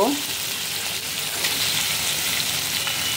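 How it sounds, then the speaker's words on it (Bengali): Ginger, garlic, turmeric, chili and salt sauté for mustard hilsa, giving a loud, steady, close sizzle that hisses without a break, with faint stirring underneath. "আমি এখন আদা রসুন হলুদ মরিচ লবণ দিয়ে একটু কষিয়ে নিলাম"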